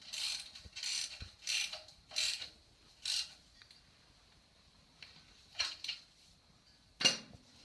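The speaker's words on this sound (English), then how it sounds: "take your socket wrench and you'll tighten it up to factory specs" A socket wrench ratchets to tighten a car part during an oil change: short bursts of rapid metallic clicking, close by and separated by brief pauses, with no voices.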